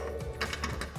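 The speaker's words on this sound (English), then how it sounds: "we're going to remove this bolt with our 18 millimeter swivel socket" Rapid ratcheting from an 18mm swivel socket working a bolt loose on a Jeep Gladiator JT front suspension, a quick close series of light clicks over about a second, no talking.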